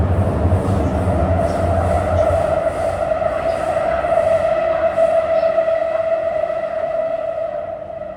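Chengdu Metro Line 7 six-car Type A train running between stations, a steady loud rumble of wheels on rail with a sustained whining tone over the hum, continuous with no talk.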